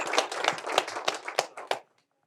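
A small audience at the end of a live talk event claps, with a few scattered but steady hand claps that fade out quickly into silence; no clear cheering stands out.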